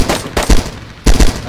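Gunfire in the video game DayZ, two close, loud bursts of rapid shots about half a second apart with short gaps of quiet between them.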